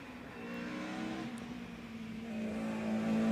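A race car climbing at a hill climb event, its engine droning steadily at mid distance and building slightly in loudness toward the end, with no talk.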